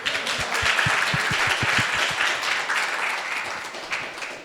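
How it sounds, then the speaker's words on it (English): Applause from an audience at a children's presentation, a dense round of clapping with distinct individual claps close by, loud at first and gradually easing off. "Got some good applause there."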